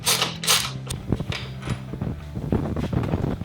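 Ratcheting socket wrench working a suspension bolt loose on a Suzuki V-Strom, a series of close, creaking clicks and metallic turns in quick irregular bursts, with no talking.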